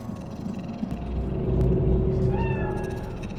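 A cat in Cyberpunk 2077's Night City gives a drawn-out meow over a low rumbling backdrop, close and fairly clear.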